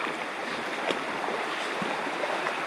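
Floodwater rushes down from the mountain after heavy rain at a fishpond, a steady broadband roar of flowing water with no pauses, close and constant throughout.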